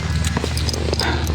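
A water buffalo (carabao) walking along on a hot day, its hooves clopping in a steady irregular rhythm close by, loud against a continuous low rumble of background noise.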